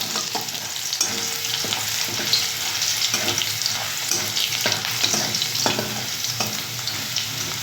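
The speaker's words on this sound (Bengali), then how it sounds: "রসুন কুচি দিলাম চার পাঁচটা রসুন কুচিয়ে দিলাম দিয়ে জাস্ট একটু ভেজে নেবো রসুনটা" Four or five cloves of chopped garlic fry in a pan for a water spinach dish, giving a steady, close sizzle broken by light scrapes and taps of stirring, with no voices.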